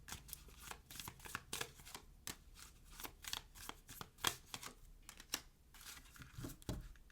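Oracle cards are shuffled by hand in a quiet room, a quick run of soft, papery riffles and slaps, close and fairly faint, with no voices.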